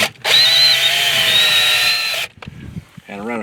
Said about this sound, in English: And I run a screw in down there